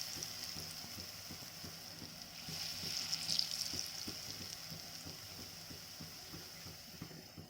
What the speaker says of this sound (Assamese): ভালদৰে ভাজিব লাগিব।